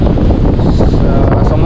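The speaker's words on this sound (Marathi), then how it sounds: "बघू शकता किती जोरदार वारा वाहतो आहे" Strong wind blows along the Guhagar sea coast during a heavy monsoon storm, a loud, continuous roar that buffets the microphone for the whole moment without a break.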